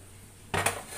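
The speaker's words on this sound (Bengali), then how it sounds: "তো এইভাবে কয়েকবার কিন্তু এটা ধুয়ে নিতে হবে, ভালো করে ময়লা ছাড়িয়ে নিতে হবে মানে চাল আর ডাল থেকে" A sudden splash and scrape as rice and lentils are swished with water in a metal cooking pot, breaking a near-silent moment and lasting under half a second.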